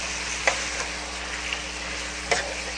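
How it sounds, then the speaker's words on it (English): Marinated deer meat sizzles in a pan with a steady, close frying hiss, and a few light clicks of stirring come through along the way. "Can you hear the sizzle?"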